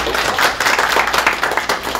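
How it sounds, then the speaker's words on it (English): Audience applause at a communications career day event, a dense burst of many hands clapping, loud and close, filling the whole short moment without talk. "Let's give them a round of applause."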